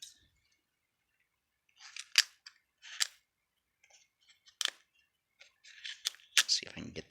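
Scissors snip open an MRE beef taco filling pouch in a few sharp, close cuts with pauses between, followed by crinkling of the plastic pouch.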